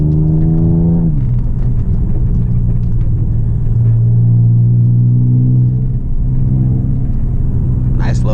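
Car fitted with Eibach lowering springs drives along with a steady, loud low engine drone and road rumble, its pitch shifting as it changes gear early on, while people talk over it.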